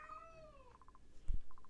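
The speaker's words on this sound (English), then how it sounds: "My cat is freaking the fuck out." A pet cat meows in a drawn-out, falling cry, followed by a few short pulsed sounds and a brief thump, fairly close in a quiet room.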